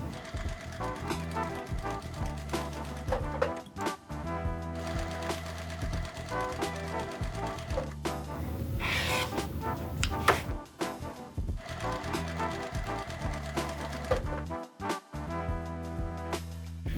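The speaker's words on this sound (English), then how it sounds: "I'm going to sew a 1/4 inch seam on each side of that line" A sewing machine stitches quarter-inch seams along a marked center line on fabric squares for quilt half square triangles, a busy mechanical whir running steadily with brief pauses and small clicks, no talk.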